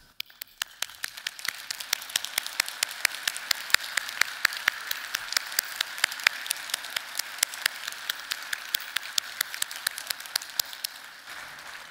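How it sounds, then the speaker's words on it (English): Sparse, scattered hand claps from a conference keynote audience honoring the SC19 committee members, individual sharp claps ringing out steadily over a soft hiss for the whole stretch, never swelling into dense applause. "Please stand for a round of applause."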